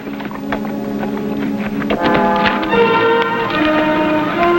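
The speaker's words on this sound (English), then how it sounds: "The outlaw's horse." Hoofbeats clip-clop against a busy background of tones and noise, steady and moderately loud with no voices.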